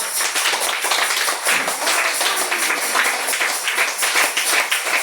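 A church congregation claps along in steady rhythm during a fellowship service, loud and close, a dense continuous patter of many hands with no talking over it.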